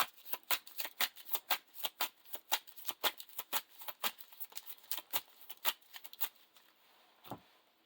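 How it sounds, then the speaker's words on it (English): A deck of playing cards for the Lord of the Rings card game being shuffled close up, a rapid series of crisp flicks and slaps in an uneven rhythm that trails off to a last single tap. "We're going to use Frodo's ability to shuffle that back into the deck"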